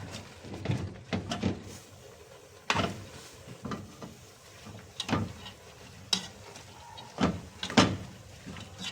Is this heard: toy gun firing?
no